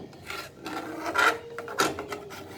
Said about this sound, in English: don't stir too harsh, or don't scrape too much